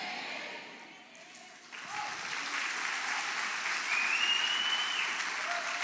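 A church congregation applauds, a dense, steady wash of clapping that rises and holds, fairly close and filling the room, with voices faintly mixed in.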